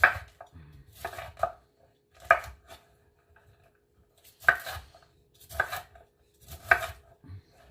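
A knife chops cauliflower on a board in irregular clusters of sharp taps with pauses between, close and fairly clear, no voices.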